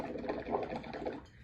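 Bubbles are blown through a straw into a cup of liquid paint, a steady, close bubbling gurgle with a soft rattling texture that fades out at the end.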